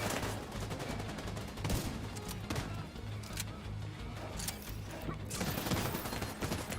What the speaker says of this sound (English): Who's shooting at me up there?